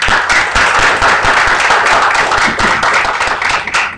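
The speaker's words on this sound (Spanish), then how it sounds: "abro el audio a todos para que se escuche un aplauso fuerte" Dense clapping from an online audience after a talk, steady and fairly loud for the whole stretch, with no voices over it.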